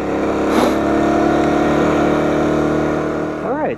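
An Aprilia Tuareg 660 motorcycle engine drones loud and steady throughout, then briefly revs up and down near the end, with a voice talking over it.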